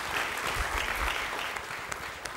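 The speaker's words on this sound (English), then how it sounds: "please join me in giving them a quick round of applause to welcome them here to Berkeley" An audience at a Berkeley lecture event gives a brief round of applause, steady even clapping from a large room heard at moderate distance, with no speech over it.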